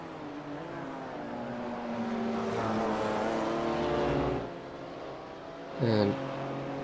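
BMW M2 CS race cars racing on the Long Beach street circuit: a steady, loud engine drone with shifting pitch as the cars pass, then a sharp brief burst near the end, with commentary talk faintly underneath.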